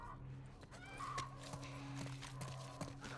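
A horse in The Last of Us video game shifts and steps with soft hoof clops and quiet snorting, faint and close over a low ambient hum.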